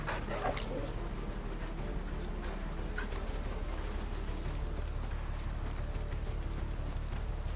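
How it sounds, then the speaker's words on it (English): A dog being petted in the Final Fantasy 16 video game gives soft whimpers and snuffles, faint over a constant, noisy game ambience. "You can pet the dog."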